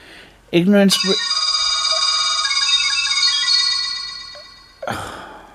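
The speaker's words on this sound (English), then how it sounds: "Damn notification ringtone." A phone notification ringtone chimes loudly and close by, a sustained bright electronic tone lasting about four seconds after a short vocal sound, with a second brief chime starting near the end.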